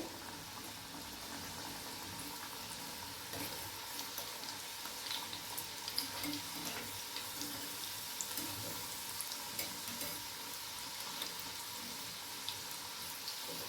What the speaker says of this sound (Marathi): हे छान गोल्डन कलर येतोवर मस्त फ्राय बनवायचे आपल्याला तेलामध्ये